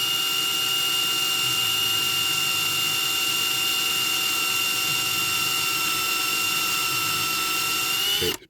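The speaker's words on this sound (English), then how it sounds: "Bit of oil in, nice and steady, trying to keep the drill up straight." A hand drill whines at a steady high pitch for several seconds without pause, close and loud, then cuts off abruptly, drilling into an oiled 1960s diecast toy tanker.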